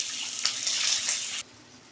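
Chopped garlic with cumin hits hot ghee for a tadka, giving a loud, close hiss of sizzling that swells and then cuts off abruptly, leaving near quiet.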